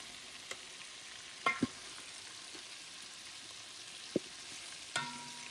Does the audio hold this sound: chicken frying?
yes